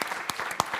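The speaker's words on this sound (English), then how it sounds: "I would like to ask is a round of applause to our panelists." Brief burst of audience applause for the panelists at an energy conference, a short dense patter of clapping at moderate level.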